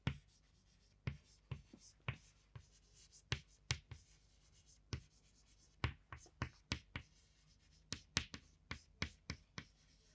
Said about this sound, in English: We will write the equation in ionic form.